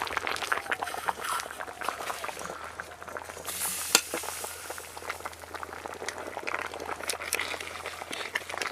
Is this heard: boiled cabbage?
yes